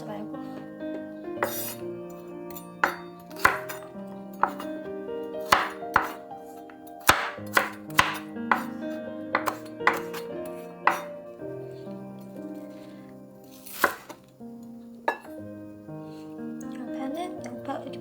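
Carrots being sliced thinly with a knife on a cutting board, sharp irregular chops and clicks close by, mixed with light kitchen clatter and some background music tones.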